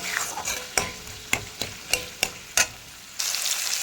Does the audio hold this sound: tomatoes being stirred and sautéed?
yes